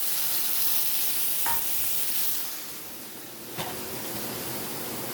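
Chillies frying in a pan give a steady loud sizzle, which eases slightly after tomatoes are added, with a couple of brief knocks.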